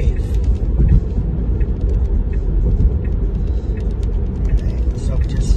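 A car driving along city streets in Elk Grove, with a steady low road rumble and engine drone heard from inside, constant and loud throughout.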